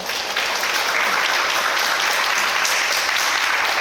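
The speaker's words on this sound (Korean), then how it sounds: "다시 한번 박수 부탁드리고요" An audience applauds at an anniversary book talk event, a loud, dense, sustained round of clapping that fills the whole stretch without talk.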